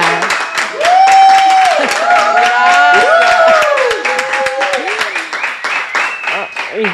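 Studio audience applause greets the newly elected president of Peru as she joins a talk-show host; a burst of clapping runs throughout while both voices speak over it.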